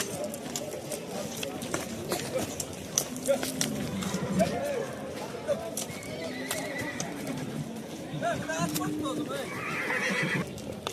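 Horses at a horse market in Tokmok, Chüy, whinny and neigh repeatedly among a steady crowd bustle, with hoof clatter and people talking nearby throughout.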